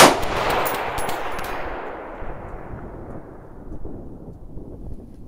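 A rifle fired at a target through a Primary Arms SLx 1-8x24 FFP scope, one loud sharp shot opening the clip and then rolling away in a long echoing decay across open ground, with no talk.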